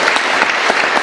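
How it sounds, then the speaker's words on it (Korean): A church congregation claps at a Christmas service, a short burst of loud, dense applause filling the room. "우리 주님께 한번 감사의 박수 올려드리겠습니다."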